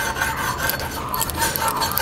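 A boti blade rasps and scrapes steadily against taro stolons as they are peeled, a close, continuous gritty rubbing with small irregular scratches and no talking.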